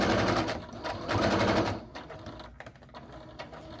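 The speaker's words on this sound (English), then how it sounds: "So I'm going to backstitch. Of course, we backstitch." A sewing machine runs in two quick, close bursts of rapid mechanical stitching while backstitching a pillow cover, followed by quieter handling clicks and rustles.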